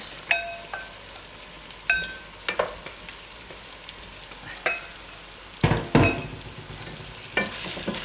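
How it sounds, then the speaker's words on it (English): Pre-cooked beef goes into a hot frying pan and is stirred, with soft sizzling under a series of sharp metallic scrapes and clinks of the utensil against the pan, loudest near the end. "Then we add our pre-cooked beef. We add it like that."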